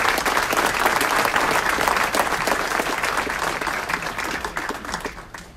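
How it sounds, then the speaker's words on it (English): Sustained applause at a city council meeting for the United Chinese Americans, many hands clapping in a dense, even roar that slowly thins and fades near the end. "Another round of applause for the United Chinese Americans."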